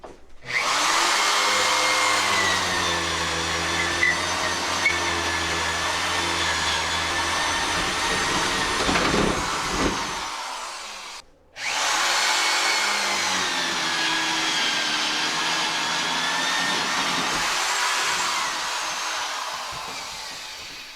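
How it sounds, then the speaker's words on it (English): A power drill whines steadily at high speed, drilling a hole during a gas water heater installation, pausing briefly in the middle before spinning up again for a second long run. "you're getting ready to drill a hole for that"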